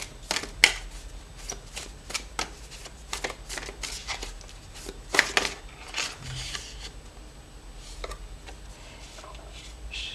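Tarot cards are shuffled and drawn by hand, a run of fast papery riffles and sharp slaps and flicks arriving in uneven bursts, close and fairly loud, with no voices.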